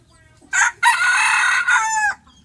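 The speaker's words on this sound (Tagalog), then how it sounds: "yung tilaok niya guys." A junglefowl rooster crows loudly and close by, one full cock-a-doodle-doo call with a short first note and a long drawn-out ending.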